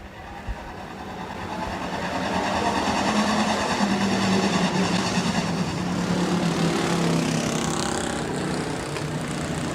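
Sportsman class race cars roar off at the green flag of a heat race at Rapid Speedway, a loud, swelling engine drone building within the first seconds and holding steady as the pack passes.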